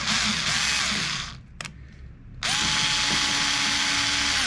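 A Rolson cordless screwdriver drives a screw with a close, loud whirring motor, pausing briefly about midway with a small click before the whine resumes steadily to the end.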